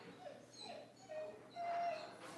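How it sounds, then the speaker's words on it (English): A dog whimpers and yips in a few soft, high, drawn-out whines, rising toward the end, heard indoors at moderate distance with no talking. "See, even my dog is saying amen."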